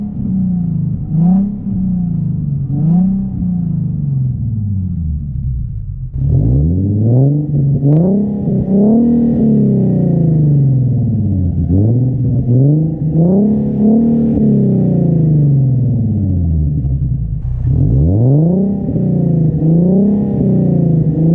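A Nissan 370Z fitted with a Greddy EVOlution GT exhaust revs repeatedly, each loud throttle blip rising and falling in a steady series, with a longer, higher climb near the end.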